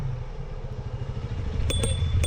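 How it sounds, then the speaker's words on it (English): A motorcycle passes on a city street beside the sidewalk, its engine chugging in a steady rhythmic pulse that grows slightly louder as it nears, with brief clattering metallic rattles toward the end. "Motorcycle coming through."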